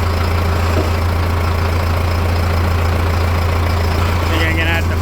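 A John Deere 6430 tractor engine idles close by, a loud, steady low drone that holds unchanged throughout with a constant mechanical hum.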